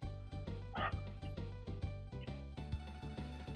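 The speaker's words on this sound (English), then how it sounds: "the dog jumped up on my bed and she's chilling with me" A dog lying on a bed gives soft whimpers and small yips, close by and fairly quiet, over a steady thumping game-music background.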